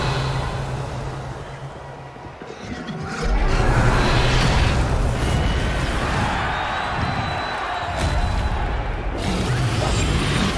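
A Confringo explosive spell cast in the Hogwarts Legacy video game: a loud, broad whooshing crash bursts in after a quieter opening and holds as a dense roar, with another sharp impact near the end.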